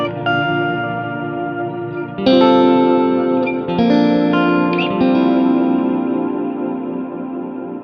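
Electric guitar played through a Strymon Nightsky reverb pedal, sustained chords and notes blooming into long, shimmering reverb tails that overlap and slowly fade, loud and without talk.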